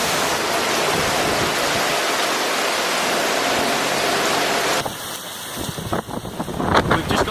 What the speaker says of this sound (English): Rain's coming in.